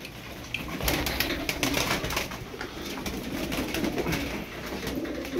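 Tumbler pigeons coo softly, with repeated low throaty calls close by over a background of rustling and flapping.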